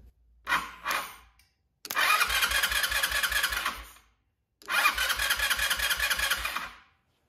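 Starter on a cheap Chinese scooter cranks in three bursts: two short whirs, then two longer grinding cranks of about two seconds each, close and fairly loud with pauses between, with no engine catching.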